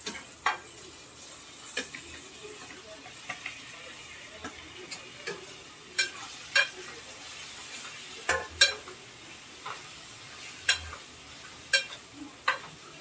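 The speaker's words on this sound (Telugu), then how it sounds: "ఇప్పుడు కట్ చేసి పెట్టుకున్న ఆలుగడ్డలు ఉంటాయి కదా ఇవైతే వేసుకుంటున్నాం" Cut potatoes fry quietly in a pan, with soft sizzling under a run of sharp, irregular scraping clicks from a spoon stirring them every second or so.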